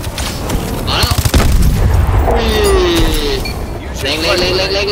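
A deep booming grenade explosion and rattling gunfire in Call of Duty: Advanced Warfare, loud and close, with a voice talking excitedly in Thai over the action.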